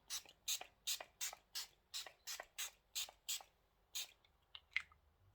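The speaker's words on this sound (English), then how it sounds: "I'm going to spray that on my face before I start blending out the contour." A run of short hissing bursts from a facial priming mist spray, about ten in quick, steady succession, close and fairly soft, followed by a few scattered fainter puffs.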